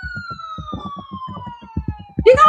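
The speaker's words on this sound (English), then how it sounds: "Can the chat hear the siren?" A police-style siren wails steadily through the whole stretch, a long tone gliding slowly downward, over a steady rhythmic beat from music nearby, with rain falling outdoors.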